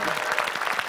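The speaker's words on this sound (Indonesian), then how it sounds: "Kita mau tepuk tangan dulu" A brief burst of studio audience applause during a comedy quiz show segment, dense overlapping claps at steady moderate loudness, cut short after under a second.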